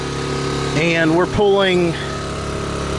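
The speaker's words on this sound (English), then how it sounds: "Well, I can hear the engine noise is a little bit higher." A 1000 watt generator engine runs steadily under heavy load with a constant mid-pitched drone, while someone talks briefly over it.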